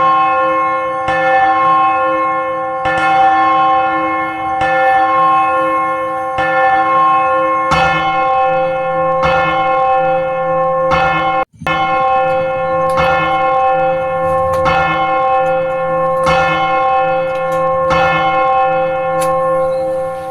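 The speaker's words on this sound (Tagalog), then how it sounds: "Kanina pa tayo nagpapatunog ng kampana." A church bell rung by pulling its rope tolls steadily with a rich, sustained ring, strikes repeating about every second and a half and overlapping, loud and close, with one brief dropout midway and no talk.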